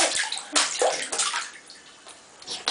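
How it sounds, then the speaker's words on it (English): A child splashes bathwater in a tub, with several close, loud slaps and sloshes of water coming in uneven bursts. "You're getting such good splashes."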